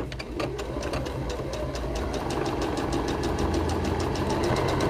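A sewing machine stitches the bottom of a cloth face mask shut, a loud steady rapid chatter of needle strokes running continuously throughout.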